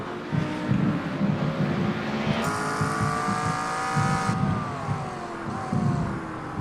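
Race cars including a McLaren and a Mustang roar around the Imola circuit in iRacing, a loud continuous engine drone with rising and falling pitch as gears change and cars run close together.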